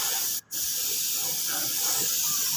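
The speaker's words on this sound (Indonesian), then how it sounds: "Nah, ini kita langsung semprot saja cat warna hitamnya seperti ini." Black paint sprayed from a spray can onto a motorbike body panel makes a loud, steady airy hiss, broken by one brief pause near the start before the spraying carries on.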